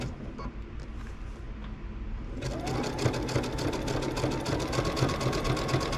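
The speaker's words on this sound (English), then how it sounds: "you can just do a zigzag stitch all the way around it" A sewing machine zigzag stitches along the edge of tote bag fabric; after a quieter start the motor runs steadily with a rapid, even needle clatter, close and continuous.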